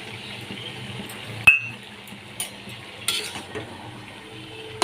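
Hilsa fish heads go into hot oil with coriander powder and spices in a pan, giving a quiet steady sizzle broken by a few sharp clinks and scrapes from a spoon against the pan.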